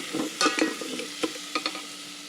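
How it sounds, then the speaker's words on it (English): Food sautés softly in a pan at home while a utensil stirs and taps against it, a few quick scrapes and clicks over a low, even sizzle, close and quiet with no voices. "You can saute in here."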